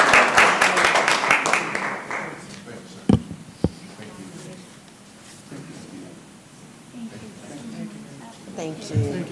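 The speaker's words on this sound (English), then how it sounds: "let's give them a big round of applause, folks" Audience applause for a proclamation at a Columbus, Georgia city council meeting, dense clapping for the first couple of seconds that fades into room murmur and rustle, with a few sharp knocks and voices talking.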